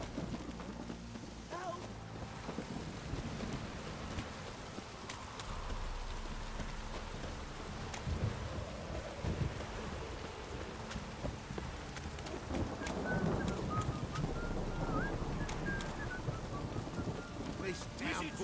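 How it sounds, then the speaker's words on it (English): A steady rain downpour hisses in the video game The Witcher 3, broad and constant throughout, with faint thumps and clopping beneath and a brief musical flourish near the end. "This downpour's a bastard"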